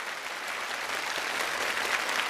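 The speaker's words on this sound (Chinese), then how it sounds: "但是在这里还是希望大家给更多的掌声，给予他们需要帮助、需要关怀的陈燕老师更多的鼓掌。" Studio audience applauding steadily and loudly at a Chinese television challenge show, a dense wash of clapping with no voices over it.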